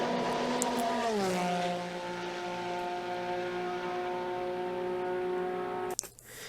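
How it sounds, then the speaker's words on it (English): A 2005 Porsche 996 RSR race car engine drones in a steady, tonal hum whose pitch drops early on and then holds level, ending with a brief clatter. "I decided to use the Porsche 996 RSR from 2005"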